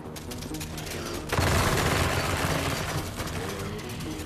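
Rapid automatic gunfire in the VR game After the Fall, a dense continuous rattle of shots that swells louder in the middle and stays close throughout.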